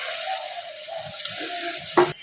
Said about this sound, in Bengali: এবার এই পিঠটা ভেজে নেবো